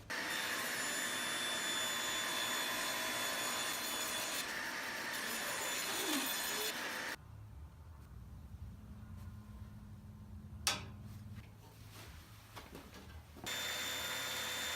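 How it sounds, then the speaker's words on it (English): Power saw cutting a wooden board into 2-inch strips for a flag display case, a loud steady whine for about seven seconds, then quieter shop noise with a sharp knock before the saw roars up again at the end. "I'm going to now cut this down into 2-inch strips."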